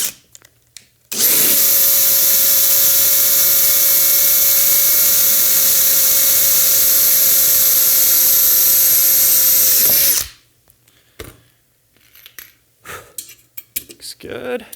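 A power drill bores a second hole in a launcher assembly, whining loudly and steadily for about nine seconds, followed by quiet handling clicks and rustling.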